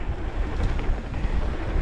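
Strong, steady wind buffets an outdoor microphone for a couple of seconds, a dense low roar with gusty swells and no voices, on a chilly, wet day during a bike outing.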